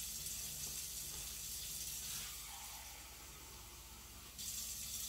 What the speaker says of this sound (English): So I need to put just a tad more water.